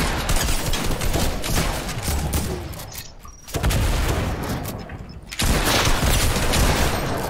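Dense, continuous gunfire in the Fortnite video game, loud rapid bursts of shots with two brief pauses before the firing resumes at full intensity.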